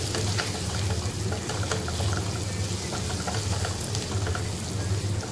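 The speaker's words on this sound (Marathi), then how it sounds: "त्याला आता व्यवस्थित परतून घेऊया आपण" Spiced cluster beans with ghati masala and onion-garlic masala frying and being stirred in a pan, a steady close sizzle running without a break.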